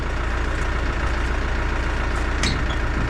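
A Scout TE504-S tractor pulls a 1NTS-2 trailer loaded with stone, its engine a steady, loud low rumble with constant mechanical drone throughout.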